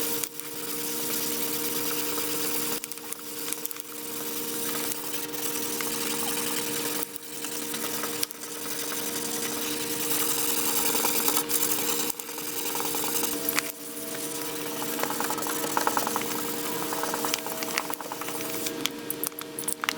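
Wet or dry sanding of a yellowed, UV-damaged car headlight lens with 400 grit sandpaper, a steady continuous scrubbing rasp with a faint hum underneath, close and unbroken with no talking.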